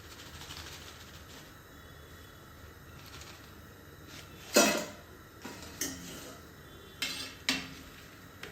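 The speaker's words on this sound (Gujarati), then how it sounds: "તેને ઝારામાં લેતા ઝારામાં કેવો અવાજ આવે છે" Crisp fried potato wafers rattle in a metal slotted spoon as a few sharp, clattering jolts over a quiet kitchen background.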